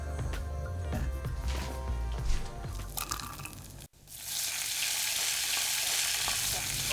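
Shrimp sizzle loudly in a heated pan, a dense steady crackle of frying with a brief stir partway through, close and continuous throughout.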